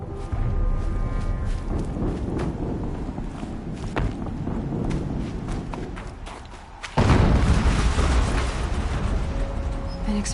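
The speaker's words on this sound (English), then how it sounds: "An explosion." A loud explosion goes off in the video game Horizon Zero Dawn, a sudden heavy boom that lands against steady rumbling ambience and leaves a dense, sustained roar behind it. No one speaks.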